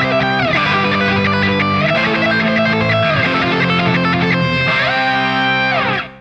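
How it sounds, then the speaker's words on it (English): Distorted electric guitar plays fast, continuous circular-picking runs through a triad, starting on its highest note, in a loud, dense, sustained stream of notes for about six seconds before cutting off. "you could start with the highest note of the triad in this case, and it'll sound like this"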